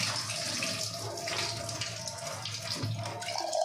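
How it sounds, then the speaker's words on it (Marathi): Soaked rice being rinsed in a bowl of water, stirred up and down with the hand, producing gentle sloshing, swirling and trickling close by. "पण एका पाण्याने हे धुवून घ्यायचे स्वच्छ, आणखी असे खालीवर करून."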